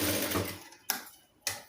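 Sewing machine stitching a quarter-inch seam along a cloth face mask, a continuous mechanical whir that stops partway through, followed by two short separate bursts of stitching.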